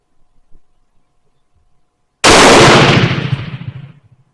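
One loud, close rifle shot from a Turkish Mauser M38 firing 198 grain full metal jacket reloads at an outdoor range, a sharp crack with a rolling boom that decays over about two seconds after quiet handling noises.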